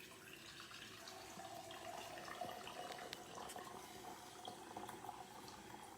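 Meat drippings pour in a steady, quiet liquid stream from the bottom spout of a gravy separator, a continuous trickle and splash running throughout with no talking.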